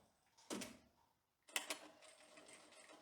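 A sewing machine stitching tailored trousers, heard as two short mechanical bursts of rapid clattering, the second running longer, close but faint in a quiet room, with a gap of near silence between them.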